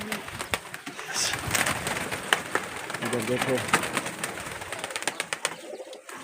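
White pigeons coo repeatedly in a date palm garden, soft and near, with occasional wing flutters and someone speaking over them.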